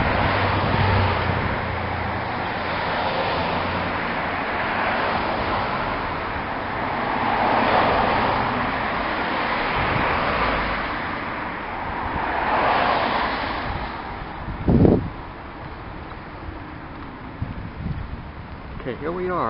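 Cars pass on a city street in Los Angeles near South Bundy Drive, a steady broadband traffic rush swelling and fading as vehicles go by, with a brief sharp thump near the end.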